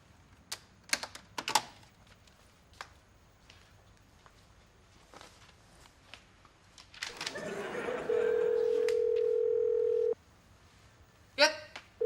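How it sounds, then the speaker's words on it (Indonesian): An office pantry telephone sounds a steady electronic tone lasting about two seconds, after scattered taps and footsteps in a quiet room. "Yuk, angkat tuh telepon."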